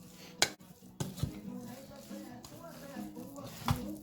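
Seasoning stirred around pork for steamed bamboo shoots: a few sharp utensil knocks against a bowl and soft scraping, close, with bits of talk between.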